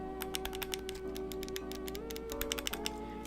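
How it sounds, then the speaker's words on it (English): Nintendo Joy-Con shoulder buttons pressed repeatedly, a quick series of crisp plastic clicks close up, some in fast bursts, over a faint steady hum. "These are like actual clicky, the Joy-Con."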